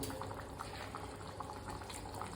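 Quiet bubbling and sizzling of diced onion and capsicum simmering in a pan, a soft continuous gurgle with small pops.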